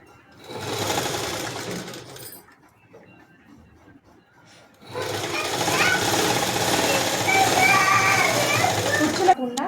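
Sewing machine sewing a double stitch on a skirt, running in two close, loud bursts, a short one and then a longer steady run, separated by a quiet pause.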